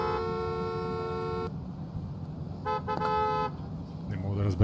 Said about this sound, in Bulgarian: Не мога да разбера тези клаксони, братле.